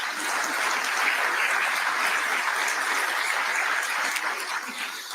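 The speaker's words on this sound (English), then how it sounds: "So let's give them a round of applause." A round of applause from the audience at a New Albany event for the Indiana governor, dense, steady clapping from a large crowd that holds evenly loud throughout.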